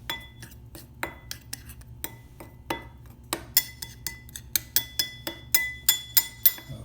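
Spoon stirring and clinking against a bowl while sorghum pancake dry ingredients are mixed, a run of sharp clinks that grows quicker and louder toward the end, close up with no talking.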